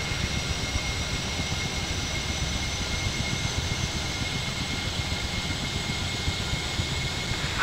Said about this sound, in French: Vérifiez que ce moteur atteint un ralenti en moins de 60 secondes.